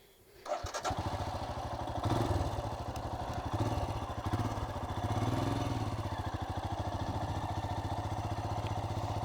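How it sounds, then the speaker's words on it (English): A Royal Enfield Himalayan single-cylinder motorcycle starts up and idles with a bassy exhaust, a close, steady low thumping beat with slight revs, alone without talk. "this bike has a bassy exhaust"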